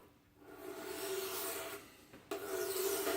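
A knife blade is drawn in steady strokes across a sharpening stone, producing a gritty, raspy scrape up close, with a brief pause between passes.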